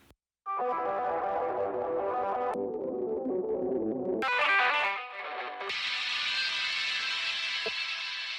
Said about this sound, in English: So there you could just hear the 4 frequency bands being treated completely different.